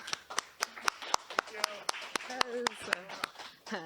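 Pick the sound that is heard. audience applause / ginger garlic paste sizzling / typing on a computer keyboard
audience applause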